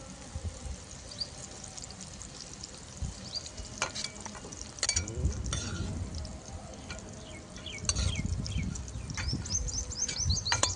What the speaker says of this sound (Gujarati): થોડીક જ વાર આપણે ખાલી તેલમાં સુગંધ આવે ને ત્યાં સુધી સાતળવાનું